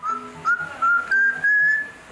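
A parrot whistles in a shop, producing a string of clear, rising whistled notes in several short bursts separated by brief pauses, close and fairly loud with no talking.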